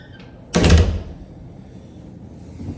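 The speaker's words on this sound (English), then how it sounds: "Door actually closes pretty good." A door swung shut in a house during a walkthrough, a single loud close thud with a brief rattle, followed by quiet room tone.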